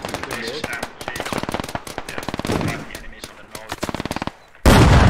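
Rapid gunfire from a Squad multiplayer battle near a tank and building under smoke cover, with dense bursts of automatic shots rattling throughout, talk mixed in, and a sudden loud blast near the end.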